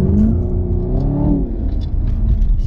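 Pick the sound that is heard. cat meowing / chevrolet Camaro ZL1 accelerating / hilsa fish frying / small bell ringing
chevrolet Camaro ZL1 accelerating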